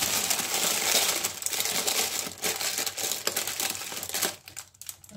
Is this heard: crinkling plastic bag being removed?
yes